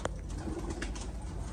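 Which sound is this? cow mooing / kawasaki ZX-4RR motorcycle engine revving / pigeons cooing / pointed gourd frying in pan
pigeons cooing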